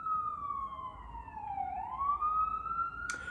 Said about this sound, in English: Look, I hear sirens